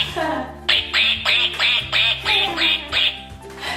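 A squeaky toy duck quacks in a steady run of about eight evenly spaced honks, close and loud, after a brief moment of other noise.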